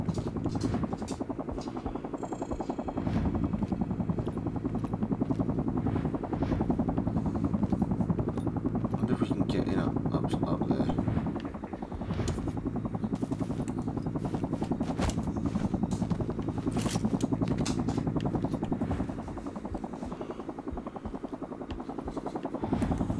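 Helicopter in the video game Sniper Ghost Warrior 3 lifting off, its rotor and engine producing a loud, continuous throbbing drone with shifting intensity over a long stretch and no talking.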